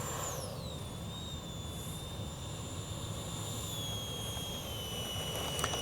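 An E-flite 64mm Viper radio-controlled electric ducted-fan jet flies overhead with a continuous high-pitched whine that slides down in pitch as it passes, over a steady broadband rush of air.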